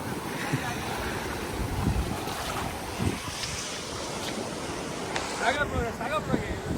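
Sea waves wash and rumble steadily near the shore in Goa, with wind buffeting the microphone and voices talking faintly in the background.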